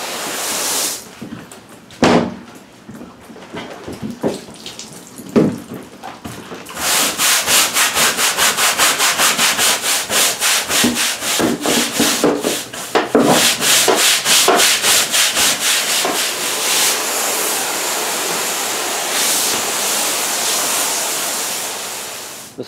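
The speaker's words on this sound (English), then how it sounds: "For those spots, a stiff bristle brush comes in very handy." A stiff bristle brush scrubs hard against a horse trailer surface, starting with a few sharp scrapes and then settling into loud, continuous rapid back-and-forth rasping strokes close by, with no talk.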